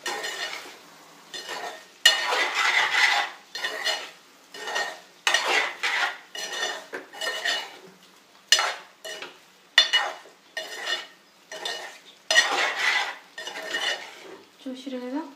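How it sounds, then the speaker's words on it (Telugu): A spoon stirs chicken liver fry with salt and spices in a pan, giving repeated scraping and clinking strokes against the metal with a soft sizzle underneath, close and rhythmic. "ఒకసారి మంచిగా కలుపుదాం."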